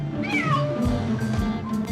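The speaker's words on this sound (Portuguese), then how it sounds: "É um miado diferenciado." A pet cat meows, crying for attention with a few drawn-out, rising and falling wails in close succession, heard near and alone.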